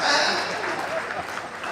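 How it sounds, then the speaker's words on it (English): Applause from an audience of former students at a school reunion church service and fundraising dinner, a broad steady clatter of clapping filling the moment, fairly loud and sustained. "A round of applause for yourself,"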